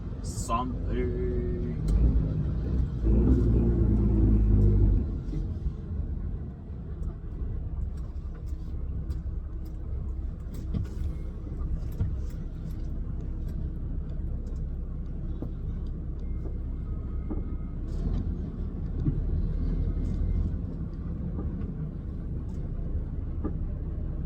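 A 500 hp truck hauling a dropside superlink trailer on a road gives off a steady low engine rumble and road roar throughout, with a louder surge near the start and people talking over it.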